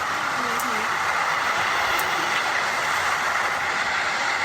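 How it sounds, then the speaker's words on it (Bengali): A train arrives with a loud, continuous rumble and hiss that fills the scene, and faint voices call out underneath. "ট্রেন এসে পড়েছে"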